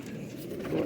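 Soft, low cooing of a silver pigeon with a murmuring rolling tone, swelling slightly louder toward the end of the short clip.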